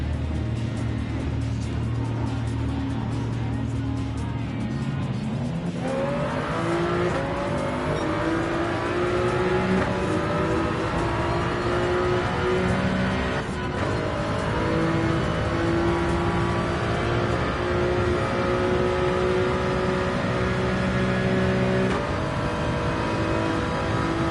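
A race car engine in Gran Turismo 7 holds loud, continuous high revs, with repeated upshifts sending the pitch sweeping upward and settling into a sustained whine, no talk over it.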